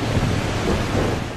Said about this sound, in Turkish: Antalya fırtınaya teslim oldu.